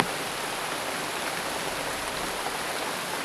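Steady, dense rain pours down without a break, a loud close hiss of drops beating on surfaces.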